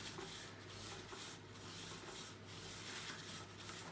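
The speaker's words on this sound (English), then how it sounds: "I'm just going to grease these cups quite well, because otherwise it will stick." Kitchen roll rubbed around the cups of a muffin tray to grease them, faint close rhythmic rubbing strokes repeating about once a second.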